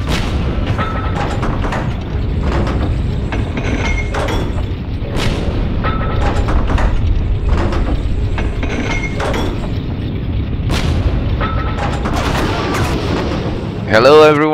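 Tank cannon fire and other gunfire in the online war game Heroes and Generals, with loud booms and shots repeating over a dense, rumbling battlefield background for the whole stretch.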